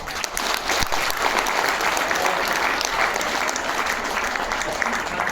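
Audience applause at a kavi sammelan poetry gathering in a Jodhpur hotel, a dense, sustained roar of many hands clapping at full strength throughout.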